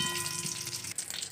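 Food sizzles in hot oil in a pan while cooking a vegetarian paneer dish, a brief dense crackle at close range with no talking.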